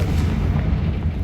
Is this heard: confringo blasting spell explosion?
yes